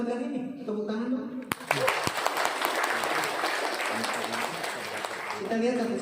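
An audience at an Indonesian lecture breaks into sudden, steady applause after a speaker's voice, a dense run of clapping lasting several seconds before talk resumes.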